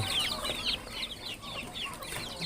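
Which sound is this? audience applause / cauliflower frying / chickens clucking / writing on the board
chickens clucking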